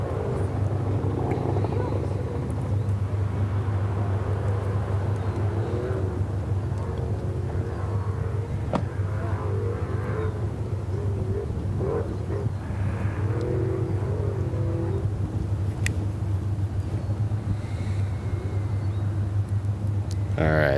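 Trophy Truck Spec race trucks at a SCORE Baja 500 qualifier start line, engines droning steadily and loudly throughout with a continuous low rumble and revving swells, commentary voices talking over the noise.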